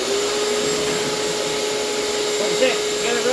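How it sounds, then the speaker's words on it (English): A vacuum cleaner runs steadily at close range, a loud constant whine and airy roar with a slight shift near the end, no speech over it. "get your vacuum going here"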